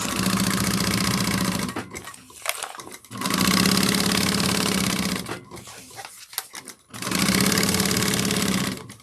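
A sewing machine runs in three long, loud bursts, stitching a bag strap and gusset seam close to the strap connectors, with short pauses between runs.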